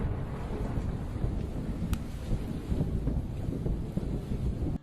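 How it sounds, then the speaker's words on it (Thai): Storm wind buffets a microphone in a steady, loud rumbling roar as rain clouds gather, with one brief sharp crack partway through and no voices. "เมฆฝนพายุกำลังก่อตัวขึ้น"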